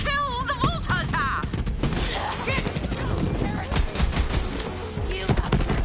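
Gunfire in the video game Borderlands 3 crackles through a dense, loud battle mix, with rapid overlapping shots and bursts layered under shouting game voices and effects throughout.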